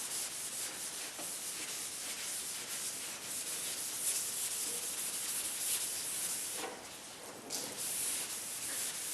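Steady wet sanding by hand on a Jeep's paint, a continuous close rubbing hiss with slight surges in stroke rhythm, heard alone without talk.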